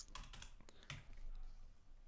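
Computer keyboard keys pressed during a TradingView back-testing session, a quick irregular cluster of soft clicks early on and then a single tap, faint and alone with no talk.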